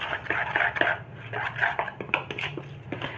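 Appam batter seasoned with salt being mixed in a bowl, giving steady wet scraping and light clinks of a utensil against the bowl, repeating at close range with no talk.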